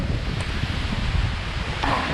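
Steady wind roaring across an exposed icy mountain summit above Carter Notch, a constant rushing buffet against the microphone.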